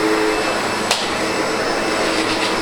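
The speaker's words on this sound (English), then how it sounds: "Now what I will show you while I'm vacuuming this" A SEBO Automatic X7 Boost ePower upright vacuum cleaner runs continuously nearby, giving a steady, loud whooshing drone with one brief knock partway through, and no speech.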